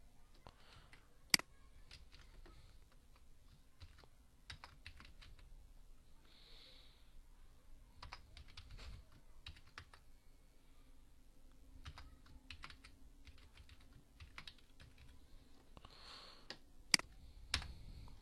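Computer keyboard typing and mouse clicking while code is copied in an HTML tutorial: scattered soft key taps and clicks, with a few sharper clicks, over a quiet room hum and no talk.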